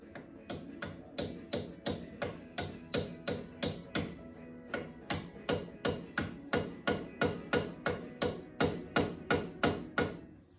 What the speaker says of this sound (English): he uses a claw hammer to work on his car